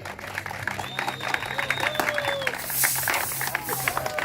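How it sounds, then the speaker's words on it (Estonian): A crowd at a motocross track claps and cheers steadily throughout, with broadband applause and a few whistles and shouts, loud and close. "Suur aplaus, ma ise peidan ära."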